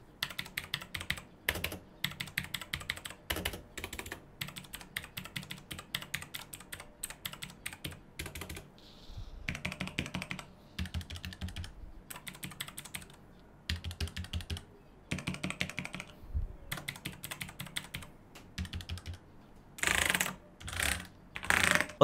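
Loud, clicky typing on a Tecware Spectre Pro mechanical keyboard with blue switches, in bursts of rapid keystrokes with brief pauses between, crisp and close.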